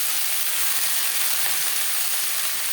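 Pea greens hit hot oil already crackling with cumin seeds and green chilli, giving a steady, dense sizzle that holds at an even level throughout, close up, with no voices.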